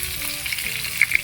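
Catfish and tilapia fry in hot oil, giving a close, steady sizzle with a couple of brief louder pops and no voices.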